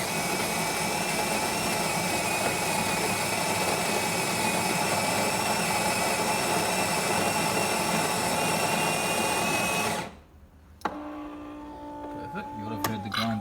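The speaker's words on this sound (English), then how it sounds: "You would have heard the grinder just start to make a different sound at the end because the beans ran out in the chamber" A Melitta Caffeo Barista TS coffee grinder runs loud and steady with a harsh whirring drone, then cuts off abruptly near the end, followed by a few brief clicks and faint mechanical sounds.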